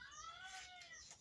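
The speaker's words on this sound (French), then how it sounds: "On a une poule qui fait ce bruit depuis quelques jours." A hen gives a drawn-out, distressed wavering call, sounding like a cry for help; it rises and falls steadily over a noisy background, fairly loud, with no speech.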